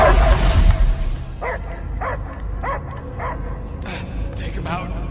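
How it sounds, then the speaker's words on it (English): A dog barks in Guardians of the Galaxy, with short repeated barks in a steady rhythm after a loud opening rumble, set against game ambience and some background voices. "I hear only barking."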